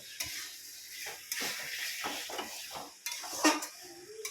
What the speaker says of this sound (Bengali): এবারে সব কিছু একসঙ্গে বেশ ভালো করে ধিমে ধিমে আছে কষিয়ে নেব